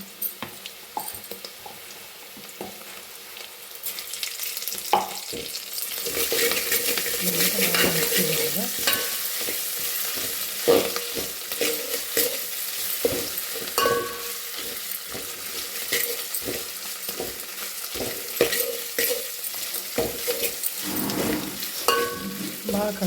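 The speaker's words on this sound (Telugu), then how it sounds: "ఇంకా ఎప్పుడైతే ఫ్రై చేయాలి బ్రౌన్ కలర్ వచ్చిన తర్వాత అల్లం వెల్లుల్లి పేస్ట్ యాడ్ చేస్తాము" Ginger garlic paste fries in hot oil in a pan for khichdi masala tomato curry, a continuous close sizzle broken by repeated scraping stirs of a spoon against the pan, with no talk.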